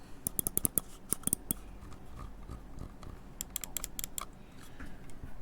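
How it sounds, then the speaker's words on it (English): Fnatic Maya X 8K gaming mouse, left and right buttons pressed in quick bursts of crisp, close clicks, with a short quiet pause between two clusters and no talking. "The left click and right click."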